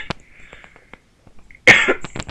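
A single sharp cough bursts out loud near the end, after some faint clicks and quiet movement sounds during a Minecraft play session.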